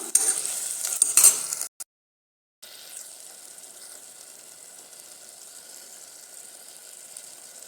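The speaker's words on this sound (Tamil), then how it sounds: "இதையும் நல்லா கிளறி விடலாம்" Tomatoes sizzle and crackle in a hot pan, with scraping stirring at first, a short gap, then a softer, steady frying hiss.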